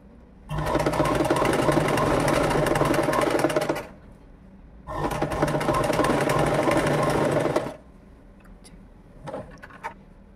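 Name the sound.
sewing machine stitching 1 inch strip for umbrella frock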